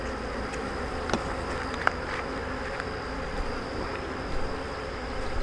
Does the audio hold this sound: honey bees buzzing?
yes